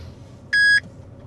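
A single steady electronic beep of about a quarter second from a Coyote Secure tracker detector, sounding clearly and alone against a quiet background as the detector nears a hidden tracker on an Audi R8.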